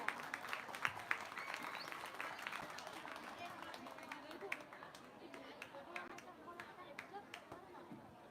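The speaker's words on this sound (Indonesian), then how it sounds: "Tepuk tangan yang meriah untuk Regu A." A crowd at a school quiz competition applauds a team with scattered, fairly faint clapping that runs steadily throughout, mixed with background chatter and crowd murmur.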